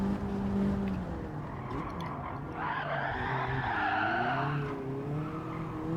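Sustained tyre squeal from a car skidding under the handbrake on a race track, a wavering high screech rising loudly mid-way over the engine note, with no talk.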